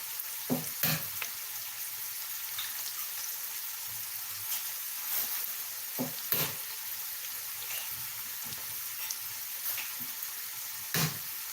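Food sizzles and fries in a pan during home dinner preparation, a steady hiss with scattered sharp pops and crackles spaced through it, close and moderately loud, with no talking.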